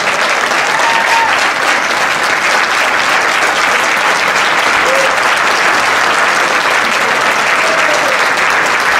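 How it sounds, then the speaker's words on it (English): Sustained, dense audience applause at a Rotary PETS presentation, loud and steady throughout with no break, a full room clapping together. "give them a good round of applause."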